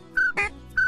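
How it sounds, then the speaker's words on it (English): Two short, bright duck call whistle notes separated by a brief breathy chirp, quick and close, with no talking. "if you'll throw that whistle in"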